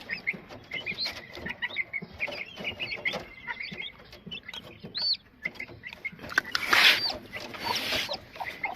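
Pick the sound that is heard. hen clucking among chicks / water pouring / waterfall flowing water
hen clucking among chicks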